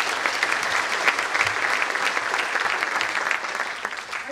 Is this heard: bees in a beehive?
no